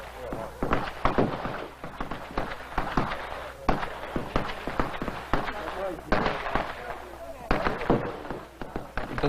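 Fireworks and firecrackers at a Qingming festival family tomb gathering in Taiwan, with rapid bursts of sharp cracks and pops in repeated clusters, loud and fairly close, and voices heard among them.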